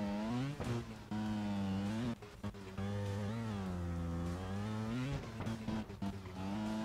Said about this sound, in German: Wenn man da mit dem Motor festhängt und einfach nicht drüber kommt